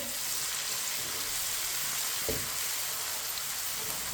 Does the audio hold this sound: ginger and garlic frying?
yes